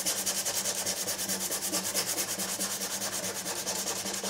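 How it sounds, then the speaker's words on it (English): Hand sanding on an electro-acoustic guitar with 240 grit sandpaper, a close, rapid back-and-forth rubbing with a steady even rhythm throughout and no talk. "take a small piece of sandpaper. In this case I've got some 240 grit laying about"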